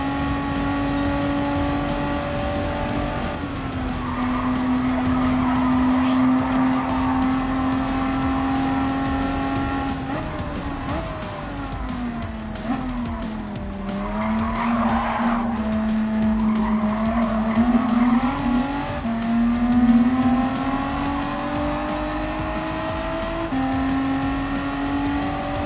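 Gran Turismo 7 race car at speed, its engine drone climbing and dipping through gear changes while tires squeal and skid through corners, loud and continuous with no talking.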